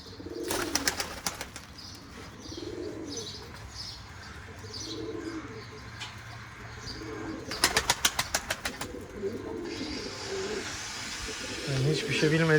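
Pigeons in a windy loft coo in repeated low rolling calls, with sudden bursts of wing flapping nearby and someone speaking between them.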